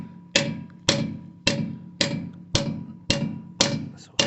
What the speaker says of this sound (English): just going to hammer it in